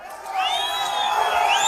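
A crowd at a political rally roars and cheers, with high rising whoops and shouts swelling together in a sustained, fairly distant wash of voices.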